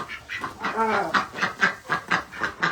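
Hens cluck nearby in a quick, repeated series of short calls, one drawn-out squawk among them.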